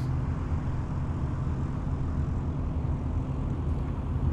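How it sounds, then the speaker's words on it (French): A propeller airplane idles on a takeoff runway, its engine a steady, dense low drone that holds at an even level throughout with no voices. "L'avion est déjà sur la route de décollage."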